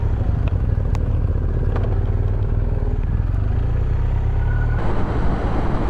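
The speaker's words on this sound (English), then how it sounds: "And his bike's got a really nice sound to it." A 2018 Triumph Bonneville T120 motorcycle engine drones steadily as it is ridden on the road, a continuous loud low rumble with wind and road noise throughout and a slight change in tone near the end.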